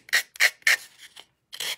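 A wood cube is rubbed against a sanding box in four quick rasping strokes, a pause, then a fifth stroke; close, dry and scratchy, with no talking.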